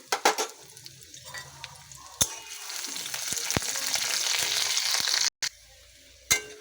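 A steady sizzle of dried red chili, nigella seeds and garlic frying in hot oil, with a few sharp clinks and scrapes of a utensil against the pan.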